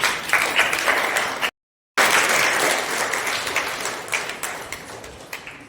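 Crowd at a women domestic workers' union election gathering gives sustained, dense applause for a vice president, loud and steady, broken once by a short silent gap before the clapping resumes and gradually thins.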